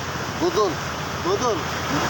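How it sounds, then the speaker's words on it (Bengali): Waves breaking on the shore at Kuakata make a steady broadband wash of surf throughout, while a voice talks over it in two short bursts. "এত সুন্দর ঢেউটা আসতেছে যে"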